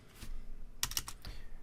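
Rapid clicks of typing on a computer keyboard, in short irregular bursts with brief pauses, close and fairly crisp.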